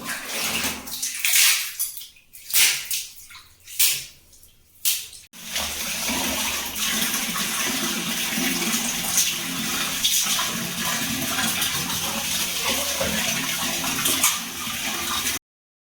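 Water pouring and splashing to rinse bathroom wall tiles, starting with several separate splashes and then a continuous loud gushing rush that lasts until the end.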